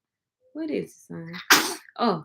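A child sneezes once, sharp and close, at a hospital or clinic bedside, between bits of adult speech before and after.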